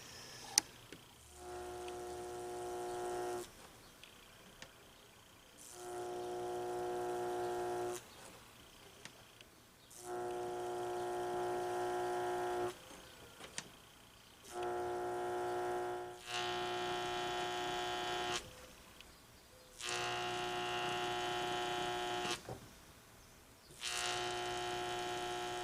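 Electric marking machine etching a maker's mark onto a steel ring knife blade: a steady mains-like hum switching on and off in repeated bursts of several seconds each, close and alone with no talk.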